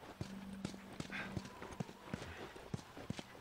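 Horse hooves clip-clop in steady, evenly spaced beats in The Last of Us on PS3, moderately close, with a low steady tone and faint game ambience underneath.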